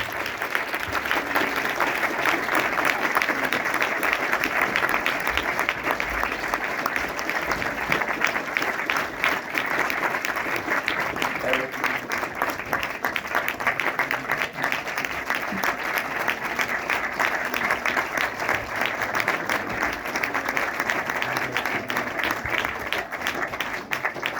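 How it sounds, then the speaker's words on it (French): Sustained applause from a large audience at a Paris film screening with James Ivory and Giles Gardner, dense and even clapping that holds steady for the full length. "je vous demande d'applaudir très très très fort James Ivory et Giles Gardner."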